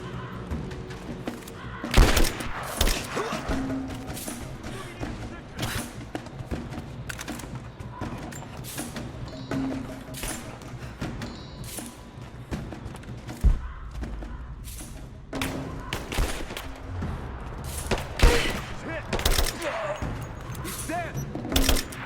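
Gunfire from Rise of the Tomb Raider cracks in scattered single shots and short bursts at mid distance, mixed with thuds and shouted voices.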